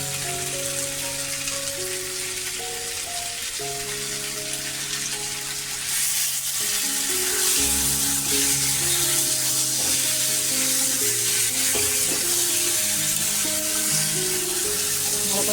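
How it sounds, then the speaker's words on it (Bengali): Biryani spices fry in a pan with a loud, continuous, even sizzle lasting the whole time, while steady music plays over it. "সব কিছু মিশিয়ে একদম ভাজা করা হয়ে গেছে"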